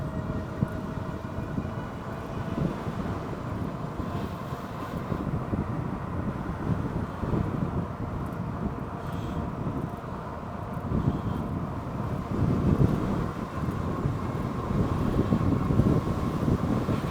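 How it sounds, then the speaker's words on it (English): Strong wind buffets the microphone while riding an Aventon Aventure e-bike, a continuous low rumbling rush with gusty surges that build toward the end, and nobody talking. "the wind is really strong today"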